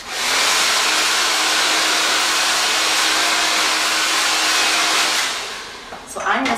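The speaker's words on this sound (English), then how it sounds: "then picking up the blow dryer and doing the" A hair dryer roars steadily at close range for several seconds, then cuts off, leaving a few faint clicks and rustles.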